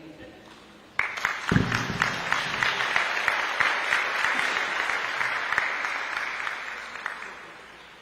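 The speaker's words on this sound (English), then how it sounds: "how about another round of applause for our keynote speaker, Ms. Rainice Baines." A conference audience at a disaster resilience summit breaks into applause for a keynote speaker, bursting in suddenly and holding as a steady, full round of clapping before tapering off at the end.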